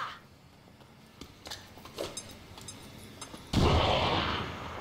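A grenade explodes in the strategy video game XCOM 2 Long War 2: a few scattered light pops and clicks, then one sudden loud blast that trails off into a long rumbling roar.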